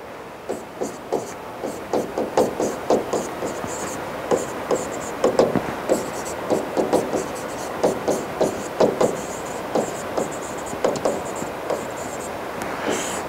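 Writing by hand produces steady, close scratching strokes on paper, a regular series of short rubbing sounds continuing for over ten seconds.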